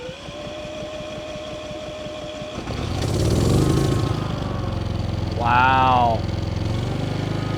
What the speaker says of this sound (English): We're gonna start it for the first time.